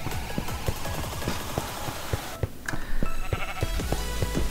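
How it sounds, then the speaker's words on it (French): A blocky Minecraft sheep bleats several times amid quick, clicky game sounds and short thuds, the bleats fairly loud and close, with a brief quieter gap partway through. "désolé le mouton, je voulais pas te faire mal"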